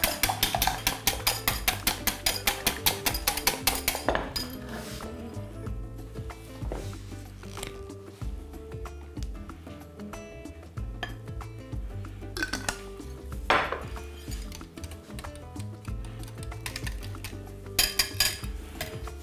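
Eggs and milk being whisked in a bowl: a fast, regular clinking of a metal whisk against the bowl, steady at first and then choppier with pauses and scraping, loud and close, with no talking.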